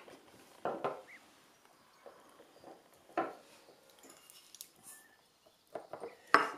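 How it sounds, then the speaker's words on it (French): Pieces of plantain leaf dropped into a small jar in a quiet room, giving a few soft, close rustles and light knocks of leaf on glass with short pauses between them, for herbal mother tincture. "on va la mettre dans notre petit pot."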